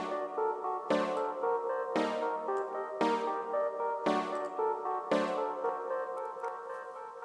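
Trap beat chord melody programmed in LMMS: sustained synth chords change on a steady pulse of about one a second, layered with a bright melodic line, continuous and full, with no drums or voices.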